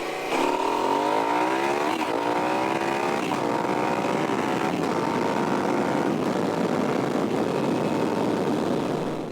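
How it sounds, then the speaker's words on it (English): A motorcycle accelerating hard with quick upshifts, the engine note climbing loud and close, then dropping briefly at each fast gear change before rising again. "here's an example of fast accelerating speed shifting. Much better when you're trying to accelerate hard."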